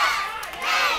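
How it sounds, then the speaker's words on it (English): A wrestling crowd at a CWF Mid-Atlantic show shouts and cheers loudly in a dense, continuous roar, with a brief dip in the middle before it swells again. "this crowd is all over Cain Justice tonight"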